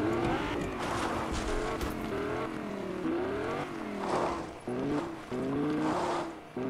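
A Ferrari engine roars continuously in a video game, revving up and down through gear changes with brief tire squeals, heard close and steady for several seconds with no talking.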